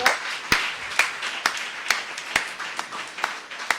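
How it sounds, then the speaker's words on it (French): Clapping at an industrialisation panel event greeting a panelist, sharp distinct claps in a slow, regular rhythm of roughly two per second over a light background of scattered applause. "je vous demande d'applaudir bien fort"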